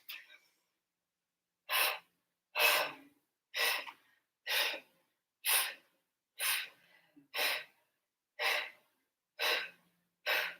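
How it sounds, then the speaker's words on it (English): Ten slow, even breaths during a pelvic floor exercise, each a loud, close, airy rush with roughly a second of silence between; no talk. "nice deep breath in"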